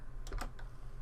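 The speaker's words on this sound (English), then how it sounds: "Let me type in a number like 90" A few quick computer keyboard keystrokes typing a number into editing software, close and crisp in a short burst over a low steady hum.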